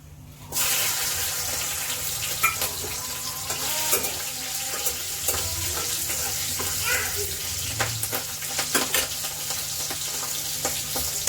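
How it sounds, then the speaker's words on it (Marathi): Four green and red chillies frying in hot oil for a South Indian poriyal make a continuous close sizzle and crackle, with occasional clinks and stirring sounds. "आता आपल्याला हे मध्ये ह्या मिरच्या टाकायच्या आहेत"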